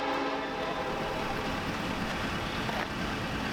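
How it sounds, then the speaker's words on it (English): A train passes close by on a film set, a loud, continuous rumble and rattle of rail cars with a steady tonal drone running throughout. "Come on, the train's coming!"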